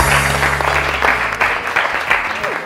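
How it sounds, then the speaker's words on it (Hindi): A studio audience on a television morning show applauds, a thick burst of clapping from many people that holds steady throughout, with a low background hum beneath. "सदा पीर भाई के लिए बहुत सारी तालियां"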